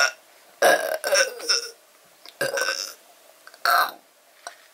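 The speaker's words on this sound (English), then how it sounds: "Why is it that I have to burp in all of my fucking videos?" Several loud, close burps in a row from a person, three main belches spaced across a few seconds with a small trailing one, no other talk.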